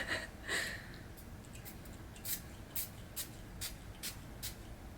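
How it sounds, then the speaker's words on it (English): A rose face mist spray bottle gives a string of short, airy spritzes at close range, two early bursts followed by a quick run of about six more, each a brief faint hiss over quiet room tone. "It's a reasonably aggressive spray"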